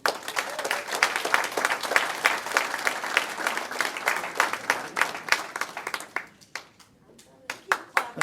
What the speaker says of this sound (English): Just knew you wanted a little more applause